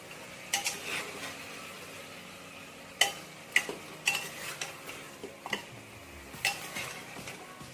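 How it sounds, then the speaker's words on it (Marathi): Mutton sautéed and stirred in a pan for Kolhapuri mutton rassa, with repeated sharp spoon clanks and scrapes against the metal over a low sizzle, close and without talk. "एक तीन ते चार मिनटं मटण चांगलं परतून घेऊया"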